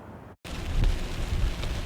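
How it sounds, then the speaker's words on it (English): Steady rain drenches the Eaton Fire burn scar area in Altadena on Christmas Eve, a dense close hiss of falling water after a brief dropout, loud and continuous with no voices. "Christmas Eve rain in Altadena drenching an already fragile Eaton Fire burn scar area"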